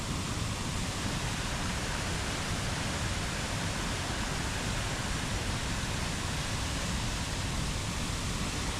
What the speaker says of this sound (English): there's something about just the like water flowing